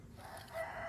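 Chickens cluck and a rooster crows faintly in the distance in a yard, under a brief low background hum.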